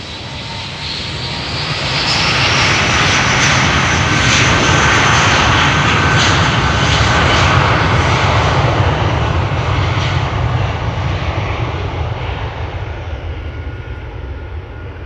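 Engines of a 22-year-old British Airways Airbus A319 jet airliner at Amsterdam airport swell into a loud, steady roar after about two seconds and hold it, with no voices over it.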